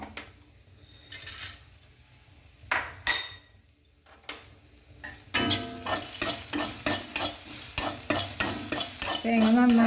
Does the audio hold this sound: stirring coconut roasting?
yes